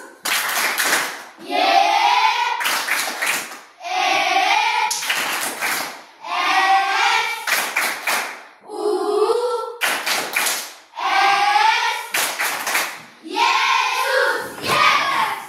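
Children in a classroom performing the Tepuk Yesus clapping chant, bursts of sung or chanted voices alternating with sharp groups of rhythmic hand claps, repeated in a regular pattern, close and loud.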